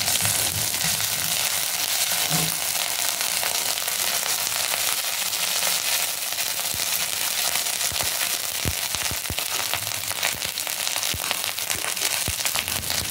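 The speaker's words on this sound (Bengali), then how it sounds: "5 ফোড়ন জিরে সব একসঙ্গে ভেজে নেব মশলাটাকে" Panch phoron and cumin seeds fry in hot oil with onion paste for a fish curry, giving a loud, continuous crackling sizzle with no talking.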